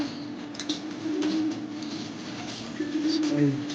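Racing pigeons cooing at a loft during a fun race, low soft coos repeating a few times close by, mixed with someone speaking and light background chatter.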